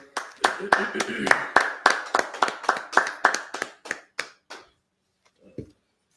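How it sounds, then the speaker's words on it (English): Hands clap in a steady rhythmic run of about fifteen sharp, close claps at a Sabbath service, slowing and stopping near the end, followed by a brief low sound. "Clap that up."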